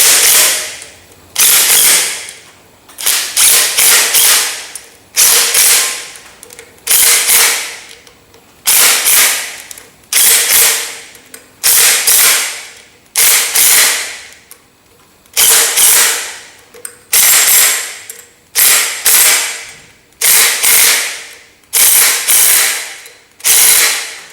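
Pneumatic rattle gun driving home the bolts on a Ferguson TEA tractor flywheel, a dozen or so sharp hammering bursts of one to two seconds each, loud and close, separated by short pauses, with no talking.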